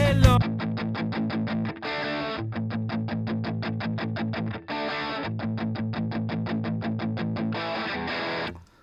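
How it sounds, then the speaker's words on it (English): Distorted electric guitar through a GarageBand graphic EQ pedal, playing a fast, steady chugging riff with a shaped, mid-heavy tone, loud and continuous with brief changes between phrases. "check out this guitar tone and listen to what this graphic EQ is doing on it."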